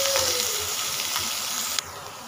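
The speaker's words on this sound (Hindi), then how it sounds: "इसे पहले अच्छे तरीके से सौटे कर लीजिए, इसका कलर चेंज होने का।" Vegetables sautéing in a pan for sambhar give a steady close sizzle and fry hiss throughout, with a sharp clink or stir near the end before the sizzle quiets slightly.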